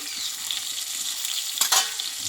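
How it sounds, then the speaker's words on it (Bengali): Pieces of pointed gourd (potol) sizzle steadily in hot oil in a pan, a continuous bright frying hiss with a couple of sharper stirring scrapes near the end, close and alone. "এখানে পটলটা কিন্তু ভালোভাবে আমি কষিয়ে নিয়েছি এবার তেল থেকে তুলে নেবো"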